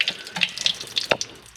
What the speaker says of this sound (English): I've already let some of this water go